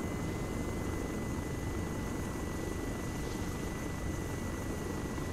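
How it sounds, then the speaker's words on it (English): Helicopter in the military video game Arma 3, a steady broadband rotor and engine drone holding at an even level throughout, with no voices over it. "It looks like the helicopter crashes on the western side of the town."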